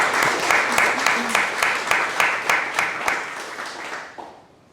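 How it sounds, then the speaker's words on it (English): An audience gives a lecture-hall round of applause for a professor at a talk on soft power and transatlantic relations, dense clapping sustained for several seconds before tapering off at the end. "Let's give a warm round of applause to Professor."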